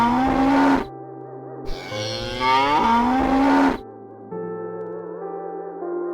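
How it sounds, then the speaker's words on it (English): A cow moos several times with long, drawn-out lowing calls standing alone, fairly loud and close, with a soft background music bed running underneath. "What does the cow say?"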